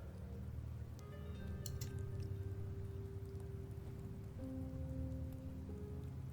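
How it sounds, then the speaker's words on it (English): Rain falling in Septimont, a steady soft patter with scattered drops, heard faintly under sustained tonal notes that hold throughout. "The rains in Septimont never seem eager to leave this season."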